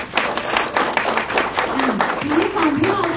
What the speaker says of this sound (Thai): ปรบมือให้ท่านอีกครั้งนึงค่ะ